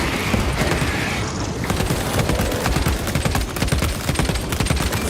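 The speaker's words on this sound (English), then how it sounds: "Frag grenade out!" A frag grenade blast and rapid, sustained automatic gunfire fill a Warhammer Space Marine 2 firefight, loud and dense throughout with no talking.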